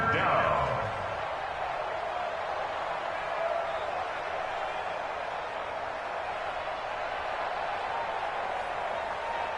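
A stadium crowd in an American football video game builds to a steady roar ahead of a big third down, loud at first then holding as a sustained wash under commentary.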